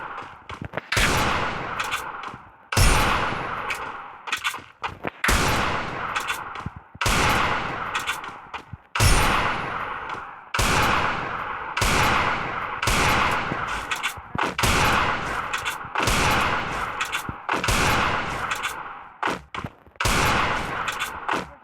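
Repeated gunfire bursts in the mobile shooter game Free Fire, loud rapid volleys in a steady rhythm of roughly ten bursts separated by short gaps, no talking over them.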